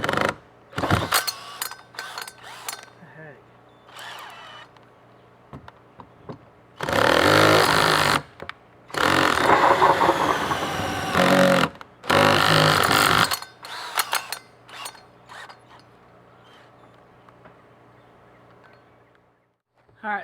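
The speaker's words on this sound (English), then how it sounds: "we're going to drill a hole for the compost bin" A power drill boring a hole down through a plastic compost bin for a DIY garden tower, loud grinding bursts separated by pauses, with smaller clicks and handling noises between.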